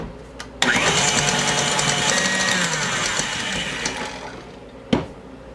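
A stand mixer whips meringue with amaretti marshmallow flavoring added, a loud steady motor whine that starts abruptly after a short knock and runs continuously, easing slightly before a sharp clunk near the end.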